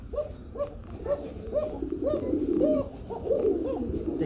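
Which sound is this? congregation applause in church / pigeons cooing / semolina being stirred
pigeons cooing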